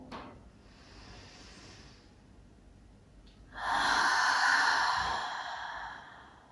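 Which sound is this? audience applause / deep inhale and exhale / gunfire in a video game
deep inhale and exhale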